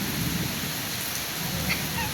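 Heavy rain pours during a flood and thunderstorm at a home in Sivaganga, a dense, unbroken hiss with no distinct thunderclap.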